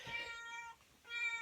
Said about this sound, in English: Let me get my cat out of here.